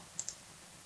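Two quick, faint computer mouse clicks land close together, crisp and near, while editing in Photoshop, over a quiet background with no talk.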